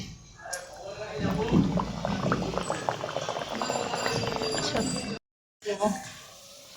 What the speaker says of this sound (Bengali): তেলটা আমার গরম হয়েছে, এবার আমি একটা করে ছেড়ে দেবো